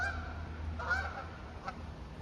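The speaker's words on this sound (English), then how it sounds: "Are those geese or ducks? Oh, these are geese." Geese honk along Highland Creek trail, a few faint nasal calls at moderate distance over a low steady background rumble.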